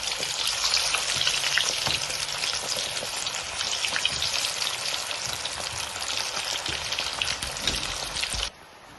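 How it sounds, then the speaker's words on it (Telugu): Peeled potato pieces fry in hot oil with a loud, continuous bubbling hiss that is close and steady, then drops off abruptly just before the end. "ఇప్పుడు ఆయిల్ వేడెక్కిపోయిందండి. ఆ ఆయిల్లో మనం ఈ తీసి పెట్టుకున్న ముక్కలను వేసేసుకుందాము."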